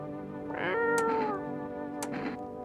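A pet cat in the video game No, I am Not Human gives one drawn-out, wavering meow, clear and moderately loud over a quiet low hum, followed by a couple of brief soft clicks.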